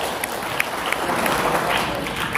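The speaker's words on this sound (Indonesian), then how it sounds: "Tepuk tangan dong untuk orang yang paling bahagia" Audience applause at a motivational talk: dense, steady clapping from a crowd, fairly close and continuous throughout, with a few sharper individual claps standing out.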